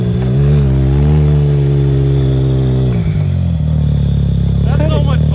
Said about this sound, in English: Sounds so good with that RJWC exhaust.